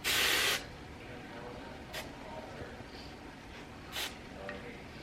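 A short burst of lululemon body spray hisses from an aerosol can at close range, followed by quieter handling sounds and a couple of faint brief puffs.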